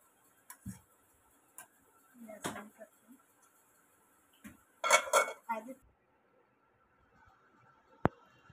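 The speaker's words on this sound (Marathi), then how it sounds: "आता मी प्लेटमध्ये काढते मॅगी" Onion and green pea Maggi noodles are served onto a plate with utensils, with scattered clinks and scrapes of metal on dishware, then a sharp final clink, all fairly quiet.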